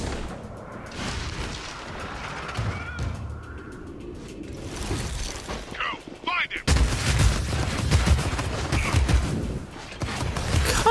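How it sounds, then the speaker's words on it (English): Gunfire in the video game InFamous: Second Son crackles as a run of sharp reports through a dense game mix, growing louder and busier in the second half. "Ooh, someone's shooting down there."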